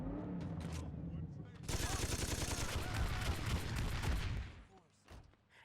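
Gunfire in Saints Row 2 while weapons are switched mid-fire, a loud, dense burst of rapid automatic shots that starts abruptly, runs for a few seconds, then stops, with quieter game sounds before and after.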